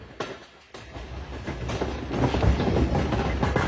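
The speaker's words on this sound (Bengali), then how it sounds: "ঢাকাগামী জয়দেবপুর 4 কমিউটার ট্রেনটি এখন ঢাকা বিমানবন্দর রেল স্টেশন প্রবেশ করলো।" Joydebpur commuter train entering Dhaka Airport railway station, wheels clacking in a loose rhythm as the rumble builds from quiet to louder over a few seconds.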